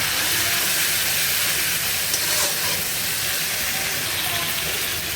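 Small shrimp sizzle in a hot pan with ground spices and chopped green chillies, making a loud, steady, close hiss that lasts the whole stretch.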